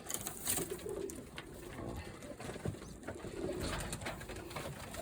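Pigeons coo softly nearby amid a noisy, rustling background, with repeated low murmuring calls and scattered clicks and scuffs.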